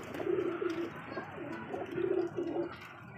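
A female pigeon coos softly in a few repeated low, rounded phrases, fairly close but quiet, with no talking over it.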